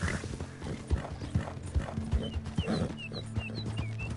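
Horse hooves clip-clop steadily in the video game Red Dead Redemption 2 as a rider travels carrying a bag, a moderately loud repeating beat over a low ambient hum, with faint bird chirps above and no talk.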